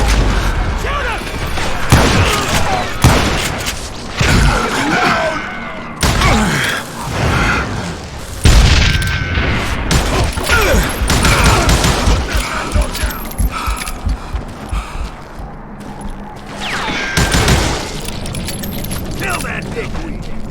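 Gunfire in the Western shooter Call of Juarez: Gunslinger, a loud barrage of repeated shots and booms across the scene, mixed with shouting voices and game sound effects.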